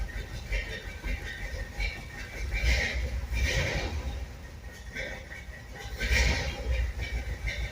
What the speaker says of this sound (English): Nice kind of low B idle in this car.